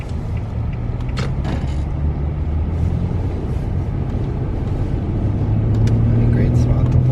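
A UPS truck drives along a snowy road, its engine a steady, loud rumble close by that holds throughout and swells slightly near the end, with no voices.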